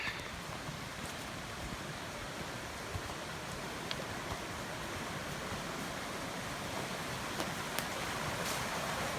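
Stream water at a hiking trail crossing in a backpacking loop on the Nicholson Hollow Trail runs as a steady, even hiss of flowing water, faint clicks of footsteps now and then, no talk.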